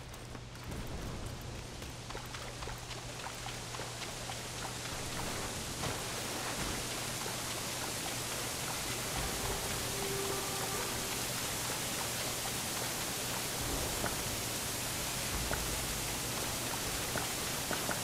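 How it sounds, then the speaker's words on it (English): Steady, full roar of a rushing waterfall in the video game Black Myth: Wukong, continuous and fairly loud for the whole stretch, with a low hum running beneath and no talking. "A waterfall!"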